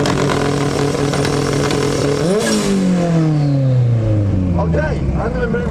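A Chevy Z-Tech turbo engine making about 400 brake horsepower, revving hard and close in a rev battle. A loud held roar climbs in pitch, then falls away in a long descending whine with turbo flutter at the end.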